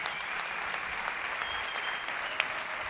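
A crowd at the TamTam DrumFest in Seville gives the translator a round of applause, a dense even wash of clapping with a few sharper individual claps standing out, continuing for the full few seconds.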